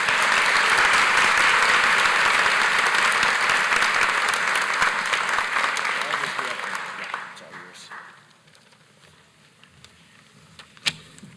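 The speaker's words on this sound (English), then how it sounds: "Will you join me now in a round of applause for all of our student leaders?" An auditorium crowd gives a loud, sustained round of applause for student leaders at a college academic and leadership awards convocation, the clapping fading out after about seven seconds into quiet room noise with a single sharp knock.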